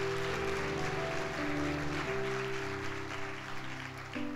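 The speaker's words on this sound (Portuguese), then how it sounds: "Quer aplaudir o Senhor?" A congregation at a Sunday church service applauds, a steady wash of clapping blended under sustained keyboard chords.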